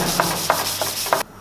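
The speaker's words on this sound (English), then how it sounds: "I hit it by hand with the 220 and I wiped it off." Hand sanding with 220 grit sandpaper makes four close, even back-and-forth rubbing strokes, each with a brief scratchy peak, then cuts off abruptly.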